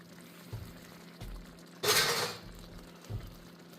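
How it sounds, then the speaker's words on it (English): Cream pours into a baked ziti mixture in a brief, soft liquid splash midway, set among quiet clinks and taps of a spoon and dish in a calm kitchen. "now we're going to add a little bit of cream"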